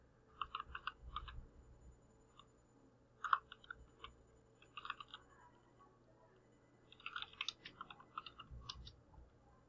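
Quiet bursts of clicky computer keyboard typing as a git commit command is entered, short rapid clusters of keystrokes separated by pauses, close but faint, with no talking.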